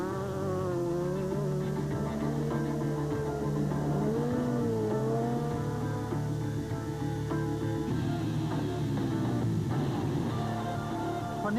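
Rally car driven hard on a stage of the 2008 Tour Natal, a steady engine drone with shifting revs and gear changes heard at moderate distance, continuous without talk.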